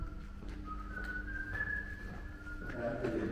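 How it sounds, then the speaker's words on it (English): A man whistles a wavering melody outdoors in Viterbo, Italy, thin and clear, over a quiet background hum with faint noise. "He's whistling."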